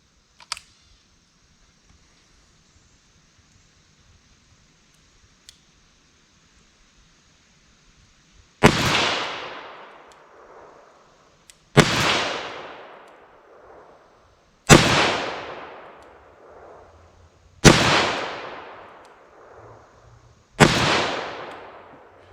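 Five loud, sharp revolver gunshots fired double action ring out a few seconds apart, each followed by a brief echoing decay, after a stretch of near silence with a couple of faint clicks.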